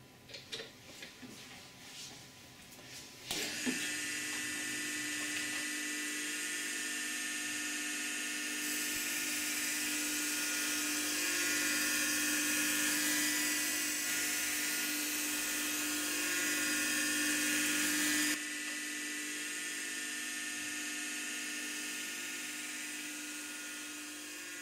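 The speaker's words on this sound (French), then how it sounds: "on va procéder à un sciage pour éliminer ce surplus de roche. On va utiliser ce modèle de scie, qui est plus petit" A small rock saw whines steadily while cutting surplus stone for thin-section slides, a loud continuous high-pitched grinding that swells and brightens midway before easing back, with scattered clicks at the start.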